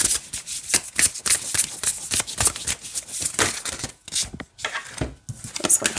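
An oracle card deck is shuffled by hand, giving repeated crisp riffling and rubbing bursts in an irregular rhythm, close and fairly loud, with no talking.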